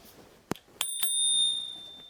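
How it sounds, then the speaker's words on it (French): A single bright ding of a small bell on a Himiway Cruiser electric bicycle after a couple of soft clicks, ringing close and leaving a lingering metallic tone. "Et là, une petite sonnette."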